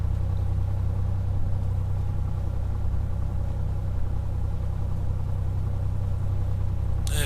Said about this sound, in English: Engine note you can hear is just because I've just leaned it a little bit.